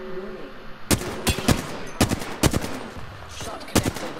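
Bursts of gunfire in an Apex Legends match, with about eight sharp, loud shots or short volleys fired in an irregular rhythm over low background game ambience.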